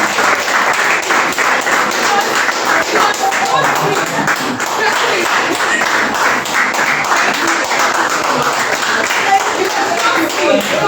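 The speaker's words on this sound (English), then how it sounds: "Then we're going to give another round of applause for him being an intentional partner." A round of audience applause at a Lagos bootcamp session, dense and loud clapping from a crowd sustained throughout, with individual claps crackling through the steady roar.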